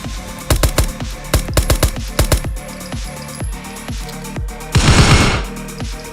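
Suppressed submachine-gun fire in the World of Guns shooting game: several short bursts of muffled, snappy shots in quick rhythm, then a louder, denser burst near the end, close and with no voices.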